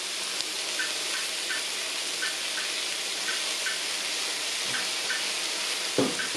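Potato, cauliflower and carrot sauté in a pan for a vegetable pulao, giving a steady, continuous sizzling hiss with a faint knock near the end.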